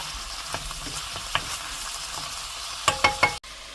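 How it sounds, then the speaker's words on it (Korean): Meat stir-frying in a pan for jjajang sauce, a steady sizzle with scattered scraping stirs and a few sharper utensil knocks near the end, close and fairly loud with no talk. "일단은 고기를 볶고 야채를 넣고 익을 때까지 잘 익히고"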